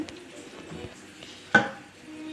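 A spoon stirs melted soap base mixed with neem powder in a bowl, giving soft scraping with one sharp clink against the side partway through.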